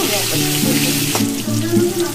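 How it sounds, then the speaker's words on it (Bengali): Pointed gourd (potol), salted, fries in hot oil with a steady, close sizzle and hiss, carried over a faint tonal hum for the whole stretch. "এবার আমরা পটল তুলে দেবো, পটলটা একটু ভেজে নেবো।"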